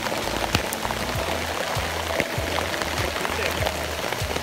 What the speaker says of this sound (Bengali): কি করো, বৃষ্টি হইতেছে।